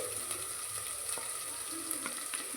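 Goat head curry fries in a pan with ginger-garlic paste, a loud, continuous sizzle with light stirring clicks and scrapes close by.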